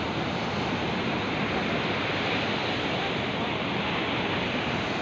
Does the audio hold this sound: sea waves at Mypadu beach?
yes